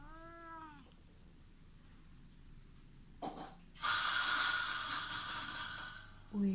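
A house cat meows near the start with a short tonal call. Soft rustling follows, then a louder burst of broadband noise, and a second brief meow comes at the very end. Someone speaks quietly in the background.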